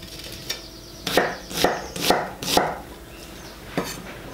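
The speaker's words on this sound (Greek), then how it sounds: "Θα πάρουμε το ένα κρεμμύδι και θα το κόψουμε" A knife strikes a cutting board in a series of sharp chops while an onion is diced into cubes, about seven crisp close hits in an uneven rhythm, with no talking.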